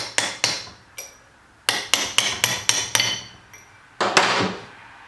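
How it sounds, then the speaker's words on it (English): Sharp metallic hammer taps strike a punch against a nut to drive it out of a Monarch swivel base vise, first spaced single blows, then a quick run of several, ending with a final ringing hit. "I'm just going to tap at the base of the nut from the front to drive it out"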